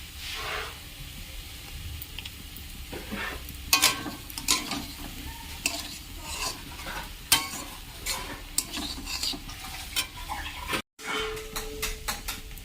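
Broccoli fry with tomato and pepper being stirred in a pan, giving soft sizzling with scattered spoon clinks and scrapes at moderate loudness.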